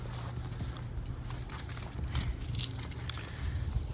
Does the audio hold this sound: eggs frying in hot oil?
no